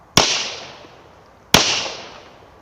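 A pistol fires two 9mm Blazer rounds, two loud sharp reports about a second and a half apart, each ringing out with a short decaying echo, and no talk.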